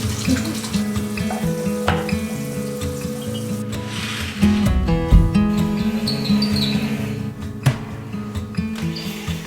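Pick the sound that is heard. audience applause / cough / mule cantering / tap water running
tap water running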